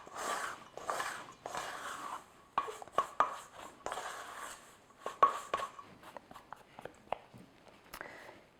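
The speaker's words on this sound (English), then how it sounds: "you can just pick it up with your hand and mix it all together" Soft, irregular squishing and patting of egg bread dough being mixed by hand in a kitchen, with sharper taps and knocks scattered throughout, close and fairly quiet, without talk.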